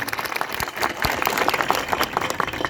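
A village crowd in Tankhala, Naswadi taluka, claps in a dense, continuous ripple to welcome MLA Chaitar Vasava, close and even throughout, with faint voices underneath.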